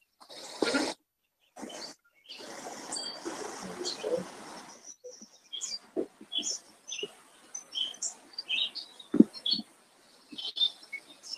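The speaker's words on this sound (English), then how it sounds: "Someone have some birds outside?" Birds chirp outside in scattered, faint bursts, with short tweets and calls drifting into a quiet room during a library board meeting.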